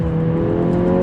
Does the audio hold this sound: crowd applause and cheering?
no